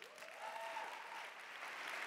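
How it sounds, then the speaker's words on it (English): An audience applauds in a steady burst of clapping that lasts the whole moment, moderately distant and fairly soft. "give him a round of applause"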